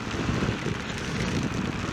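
Steady rain falls during a motorcycle ride, a dense continuous patter and hiss that stays close and even from start to finish with no voices.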